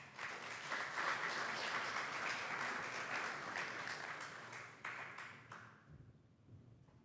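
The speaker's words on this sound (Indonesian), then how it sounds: "Mari kita berikan tepuk tangan yang meriah." A charity concert audience applauds steadily with dense, sustained clapping that tapers off after about six seconds, leaving a quiet hall.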